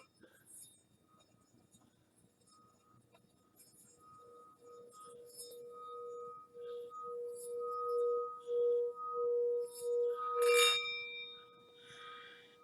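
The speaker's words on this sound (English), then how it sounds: "This is a singing bowl from Tibet." A Tibetan singing bowl rubbed with a stick slowly builds into a steady, pulsing ringing tone, swelling louder over time, with faint clinks early on and a bright metallic burst near the end.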